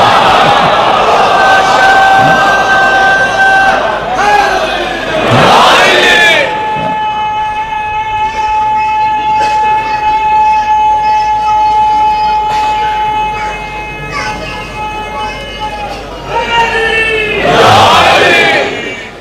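A large crowd at a religious majlis chants long, loud drawn-out slogans, voices swelling in sustained tones with bursts of cheering near the start and end.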